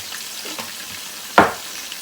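Spice masala with nutmeg, mace and cumin powder frying in a pan for chicken pulao, a soft steady sizzle punctuated by one sharp stirring scrape midway.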